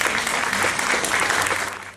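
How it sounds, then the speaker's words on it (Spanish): Sustained applause from an audience at an education summit in Spain or Latin America, a dense steady wash of clapping that fades slightly toward the end. "Un fuerte aplauso, por favor."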